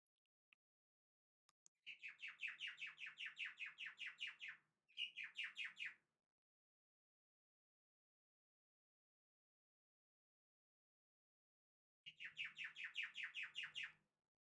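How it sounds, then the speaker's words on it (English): Birds perched on a windowsill chirp in three rapid, trilling bursts separated by quiet pauses, fairly soft and alone. "Can you hear the birds?"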